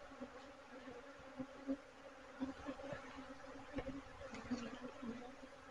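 A steady, close insect buzz of many honeybees at a hive, with brief louder passes as individual bees fly near.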